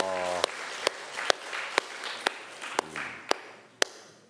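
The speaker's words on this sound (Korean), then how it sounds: "박수 한번 칩시다" A church congregation at a retreat claps, heard as a faint, distant wash of applause with sharp, evenly spaced clicks running through it and brief speech at the start and near the end.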